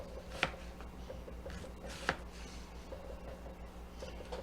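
A knife chopping diced onions on a board, two sharp distinct thuds spaced about a second and a half apart with a faint third near the end, over a quiet low hum.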